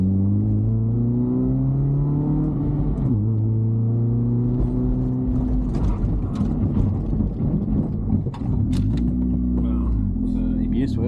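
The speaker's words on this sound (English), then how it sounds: "Brake test." A Honda CR-Z with 300mm front brake rotors stopping hard from about 70 km/h in an ABS test, an engine drone sliding down in pitch under road rumble, then a burst of rapid clicking and chattering pulses before the drone returns.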